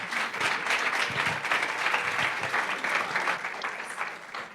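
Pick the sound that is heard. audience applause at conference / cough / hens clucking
audience applause at conference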